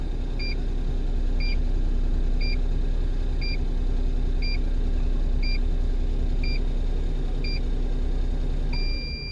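A car engine idles steadily on an HKS turbo timer with repeated evenly spaced electronic beeps, about one per second, then a long final tone as the engine shuts off near the end, leaving quiet.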